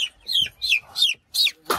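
A Brahma chicken clucks in a quick series of five or six bright, separate calls, close by, with brief pauses between them and no talking.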